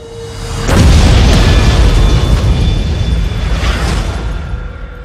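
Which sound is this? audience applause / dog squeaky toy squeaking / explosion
explosion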